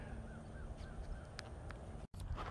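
A crow caws faintly several times in the distance over a steady low outdoor rumble, with a brief dropout near the end.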